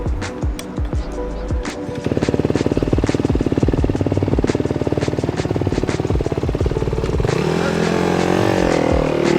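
A Honda dirt bike runs Supercross practice at Anaheim with a loud, close engine. It opens with a few revs, then holds a steady, buzzing drone at high revs that shifts pitch toward the end.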